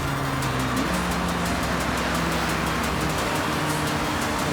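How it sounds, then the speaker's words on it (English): A 2021 McLaren Sabre coasts off throttle downhill in Forza Horizon, a steady loud rush of tyre and wind noise with a low, gently shifting engine drone and no talk. "We're just coasting down the hill right now. I'm not on the gas at all."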